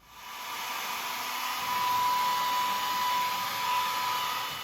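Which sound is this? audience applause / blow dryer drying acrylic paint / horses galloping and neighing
blow dryer drying acrylic paint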